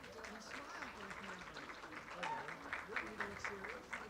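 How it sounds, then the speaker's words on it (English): Applause at a school graduation ceremony for a class of graduates: steady crowd clapping throughout, with voices and a few cheers mixed in over the noisy hall. "let's give them a hand of applause"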